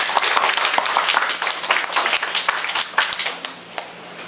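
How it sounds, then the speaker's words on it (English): A crowd applauds loudly, many hands clapping densely and continuously before tapering off toward the end. "So a round of applause for you and your community."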